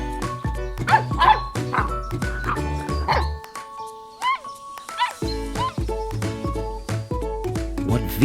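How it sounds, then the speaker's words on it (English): Several puppies bark and yip in quick, high-pitched bursts, near and loud, with a short quieter gap midway before the yapping resumes. "Puppies."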